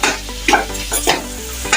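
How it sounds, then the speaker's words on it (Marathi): Finely chopped onion frying in a pan for pav bhaji, a steady close sizzle with repeated scraping stirs of a spatula. "मला याच्यामध्ये कांदा घालायचा आहे बारीक चिरलेला, आणि तो छान भाजून घ्यायचा आहे"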